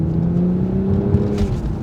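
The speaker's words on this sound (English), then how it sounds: "there's wonderful sound off that straight 6 engine. It pops and bangs and clatters in sport mode" A Toyota Supra's straight-six engine in sport mode holds a loud, steady, close-up drone with a smooth rising tone and a brief crackle near the end, with no voices over it.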